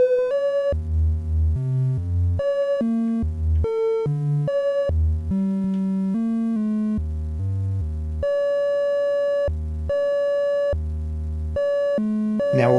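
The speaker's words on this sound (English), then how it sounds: "Beating is gone and we have just a single tone." Analog sine wave oscillators in eurorack modules play a sequence of pure electronic tones, low and mid pitches stepping in an irregular pattern with brief gaps, clean and steady without beating.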